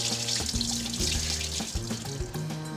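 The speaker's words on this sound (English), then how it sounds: "I'm gonna drain the brine in my sink" Habanero pork brine pouring out into a kitchen sink, a continuous close hiss and gurgle of draining liquid under a steady low hum, with no voices.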